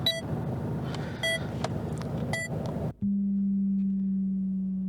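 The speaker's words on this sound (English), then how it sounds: "We will play a series of tones that range from 200 Hz to 10 Hz." A low, steady test tone from a £500 subwoofer in a hatchback holds constant and loud after a noisy opening stretch broken by short electronic beeps.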